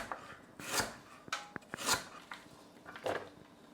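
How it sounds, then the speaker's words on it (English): Carrots being peeled in a kitchen, a few quiet scraping strokes with soft rasping swipes and small knocks, spaced irregularly and close. "First thing I'm gonna do is peel the carrots."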